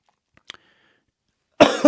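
A single loud, close cough bursts out near the end after a few faint clicks in near silence.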